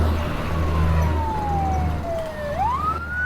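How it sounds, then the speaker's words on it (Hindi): Fire brigade trucks pass with sirens wailing, a single close siren tone sliding steadily downward and then sweeping back up, over a low engine rumble and traffic noise. "ये फायर ब्रिगेड की गाड़ियाँ इस तरफ क्यों जा रही हैं?"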